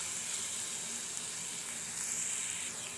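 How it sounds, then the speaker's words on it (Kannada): Onions frying in oil with turmeric in a pan, a steady close sizzle and hiss running evenly throughout with no talking. "ಇದು ಈರುಳ್ಳಿ ಚೆನ್ನಾಗಿ ಫ್ರೈ ಆಗಿದೆ."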